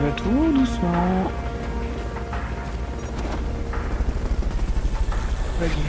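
A helicopter in the video game Metal Gear Solid Peace Walker: a steady rotor drone with a pulsing chop that grows stronger toward the end, mixed with game effects.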